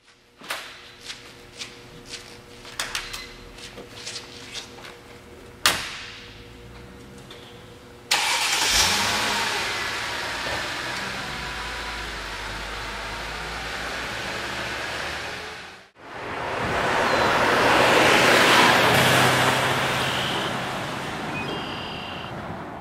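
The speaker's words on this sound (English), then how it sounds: "just cruising along at about 40 miles an hour" Inside a Mercedes-Benz G500 SUV cruising at about 40 mph, a continuous rumble of road and engine noise fills the cabin, with scattered clicks at the start and a brief lull midway.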